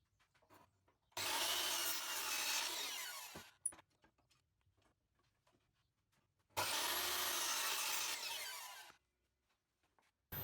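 Mitre saw making compound mitre cuts through plywood panels for a scrap-wood dog bed, two loud close cuts of a few seconds each with a quiet gap and small knocks between them.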